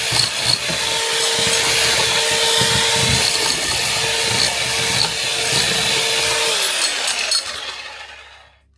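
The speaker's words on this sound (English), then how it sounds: "I'm about to drill what is hopefully the last hole between downstairs and upstairs" A loud, steady power drill bores through a wooden floor for several seconds, a continuous harsh whine that winds down and fades near the end.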